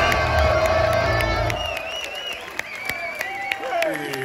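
At a live metal concert in Santiago, a crowd cheers loudly for a band member, with a dense roar and whistles that fade into scattered shouts and whoops, and a voice also speaking through the noise.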